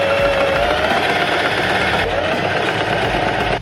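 A sewing machine stitching a festival top runs steadily and close, a continuous buzzing mechanical whir with a faint background voice.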